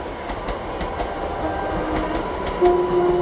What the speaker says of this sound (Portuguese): Ó trem, ó trem.